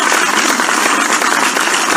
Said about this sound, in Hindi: उनके लिए हम जोरदार तालियां बजाएंगे दोस्तों